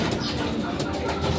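Racing pigeons coo softly in a steady, noisy loft, their low calls blending into a dense, constant background with no clear gaps.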